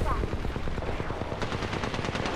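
Rapid gunfire rattles in a video game as shots hit the player, with dense bursts of close, sharp cracks running nearly the whole time.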